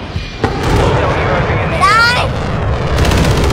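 A stun grenade detonates during a video game firefight: a loud, sharp bang amid continuous gunfire and blasts, with players talking and shouting throughout.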